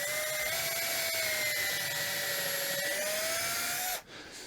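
A power drill drives screws into a homemade wooden drill platform, a steady whining motor hum that holds its pitch for about four seconds, close and loud, then cuts off abruptly.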